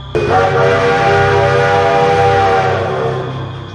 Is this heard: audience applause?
no